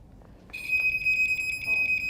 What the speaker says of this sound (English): This is a smoke alarm.